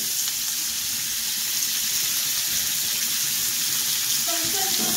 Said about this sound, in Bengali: এটাকে খুব ভালো করে লাল লাল করে ভাজা করতে থাকি